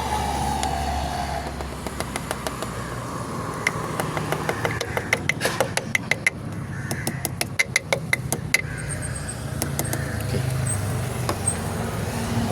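A car engine idles steadily after an engine oil additive treatment, with a low continuous hum and a rapid ticking pattern audible through the middle, heard up close without talk.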